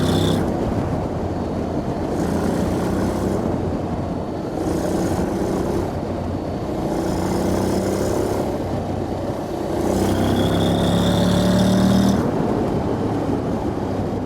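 A Honda X-ADV scooter-style motorcycle with DCT automatic shifting and its muffler outlet aimed toward the rider drones steadily during a test ride, its engine and exhaust note rising and falling under constant wind rush.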